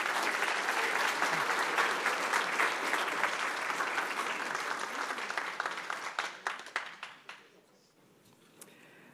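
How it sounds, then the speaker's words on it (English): Audience at a school board meeting applauds award recipients: sustained even clapping at moderate distance that thins into scattered individual claps and fades out near the end. "Let's give them a round of applause."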